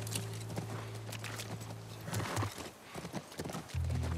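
Hooves of a horse clop along steadily on the ground in the video game The Last of Us Part I, over a low humming drone, with a brief snort or whinny amid the footfalls.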